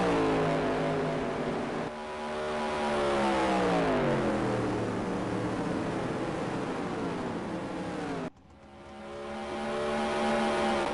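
Race cars lap the big three-quarter-mile Black Creek Raceway in a Florida Speedweeks feature, including the 42 Docker Titanium Roadster, engines droning and rising and falling in pitch as they pass, with a sharp dip and a new engine swelling in near the end.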